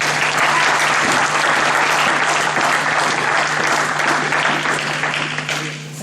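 A church congregation bursts into sustained, dense applause during a French-language sermon, loud and close, clapping steadily for about six seconds before starting to thin out, with a low steady hum underneath.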